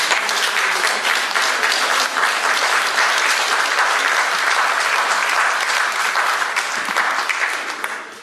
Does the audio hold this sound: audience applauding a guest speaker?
yes